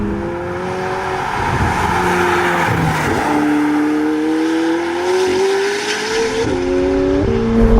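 A McLaren 765LT Spider engine revs hard through the gears, the exhaust note rising and dropping with each shift, loud and close with no talking.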